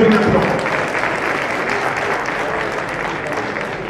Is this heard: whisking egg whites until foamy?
no